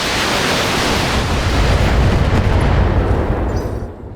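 Weapons fire from BattleTech mechs aimed at a Quickdraw mech, a dense continuous roar of explosive blasts that holds loud for about three seconds and then trails off.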